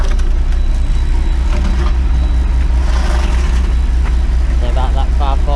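Bus engine idling steadily while the air system builds pressure, a loud constant low rumble throughout, with a voice heard faintly over it near the end.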